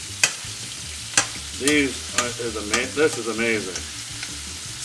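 A vegetable stir fry with sun-dried tomatoes is tossed in a sizzling pan, sharp scraping strokes and clatter over soft frying hiss, while a voice briefly speaks partway through.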